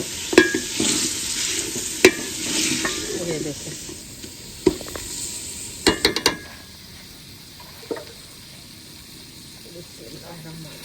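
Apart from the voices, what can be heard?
broth added to sizzling chicken biryani in pot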